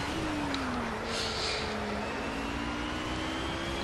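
Marek RP 339H LMP1 race car engine in the Project Cars racing game at Le Mans, a steady high-pitched whine with revs climbing after a gear change, moderately loud and constant, with no talk.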